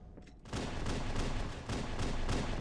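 Sustained pistol gunfire from Halo: Combat Evolved multiplayer, a dense, continuous barrage of rapid shots that starts abruptly after a brief quieter moment and keeps going without pause.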